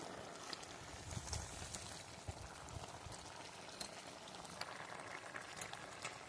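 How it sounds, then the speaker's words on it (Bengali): Banana curry with mustard paste bubbling in a pot, a steady soft simmer of popping bubbles and light crackles with no one talking. "আর একটু ফুটিয়ে নেব, কারণ সরষেটা দিয়েছি"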